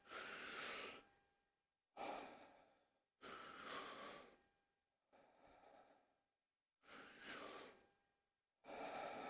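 Six deep, forceful breaths taken in a steady rhythm before a cold plunge, each a loud, close rush of air filling belly and upper lungs, separated by short silent gaps, with no talking.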